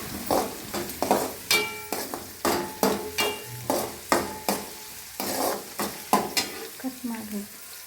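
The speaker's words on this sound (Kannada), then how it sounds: "ಈರುಳ್ಳಿ ಚೆನ್ನಾಗಿ ಫ್ರೈ ಮಾಡಬೇಕು ಸ್ವಲ್ಪ ಕ್ರಿಸ್ಪಿ ಆಗಿರಬೇಕು" Onions frying in a pan, crisping while being stirred, with rhythmic scraping strokes about once a second over a constant sizzle, close up and with no voices.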